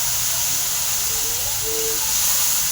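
Spices being sautéed in a pan, a loud steady close hiss and sizzle with a faint whistling tone, continuous throughout with no talk.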